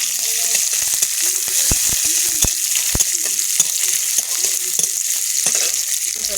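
Panch phoron spices and bay leaf crackling in hot oil in a wok, a loud close hiss of frying with sharp popping spatters and stirring knocks throughout.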